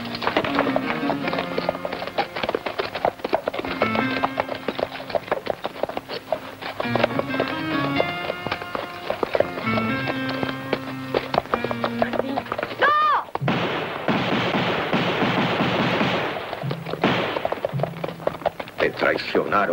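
Galloping horses in a film battle scene mix with gunfire and a dense orchestral score, with a loud rushing burst of hoofbeats and action toward the end.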